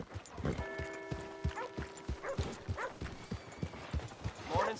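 Horse hooves clip-clopping at a steady walking rhythm in the Red Dead Redemption 2 video game, with a character's voice talking over the footfalls and a short sustained tone in the background.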